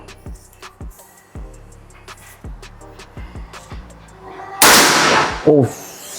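A sharp, loud shot from an SR Extraction 500cc PCP air rifle with a burst of noise, followed by a smaller pop, after a series of quieter clicks and knocks nearby.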